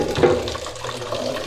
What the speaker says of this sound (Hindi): इनको मैं 2-3 मरतबा पानी में अच्छी तरह भिगोकर इनका पानी निकाल लूँगा।